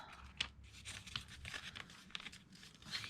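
Paper being folded by hand for a shabby-style craft journal, soft crinkling and quick crisp creases in short bursts, quiet and close.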